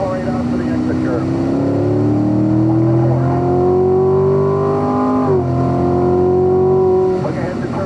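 A Corvette Stingray accelerating on a race track, its engine note rising steadily in pitch before a brief dip and further climb, loud and close, like an in-car recording.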